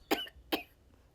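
Two sharp coughs from a person with a bad, persistent cough, close to the microphone, about half a second apart, followed by quiet.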